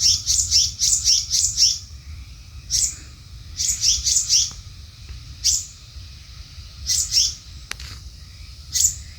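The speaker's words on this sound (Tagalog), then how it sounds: "May maliit na ibon." Small bird chirping near its nest on a mountain trail, repeated bright sharp chirps in quick bursts and single notes, fairly close and loud over a low rumbling background, with no speech.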